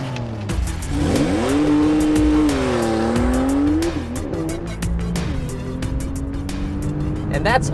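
2018 Porsche 911 Carrera GTS with rear-axle steering and sports suspension lapping a racetrack: loud engine revving with sustained tire squeal through a corner, then accelerating away.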